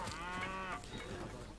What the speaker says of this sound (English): Let's improve the cows first.